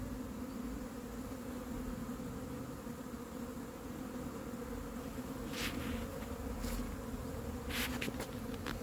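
A swarm of honey bees hums continuously during a swarm capture and hiving outdoors, a dense, steady drone with a few brief closer buzzes of individual bees passing near the end.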